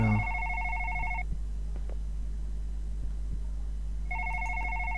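A game telephone rings in a late-night horror session, two electronic trill bursts: one at the start lasting about a second, then silence with faint clicks, then the ring resumes near the end.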